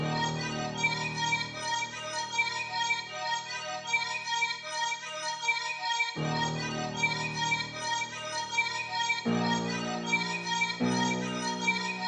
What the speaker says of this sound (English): the second thing that I added is this deep piano